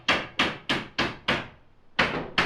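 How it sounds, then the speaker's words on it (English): Hammer blows ring out on roof sheathing high on a large custom house frame, six sharp strikes in a steady rhythm with a short pause before the last two, fairly loud and clear with no talk. "He's up there sheeting that upper roof right now."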